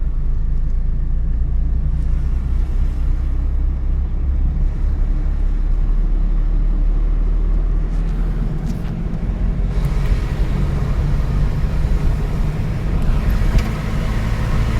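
A car engine hums steadily during a driving lesson, a loud, constant drone that rises slightly toward the end as the driver accelerates.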